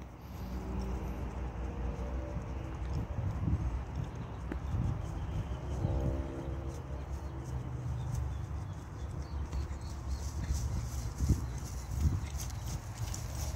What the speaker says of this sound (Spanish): Un caballo que es caminador.